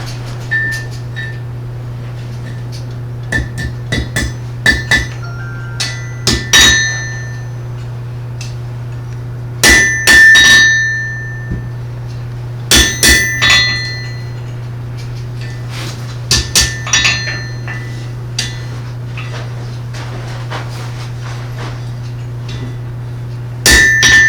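Metal struck with a hammer at a blacksmith event, giving sharp ringing clangs in irregular clusters of several blows with pauses between, fairly close over a steady low hum.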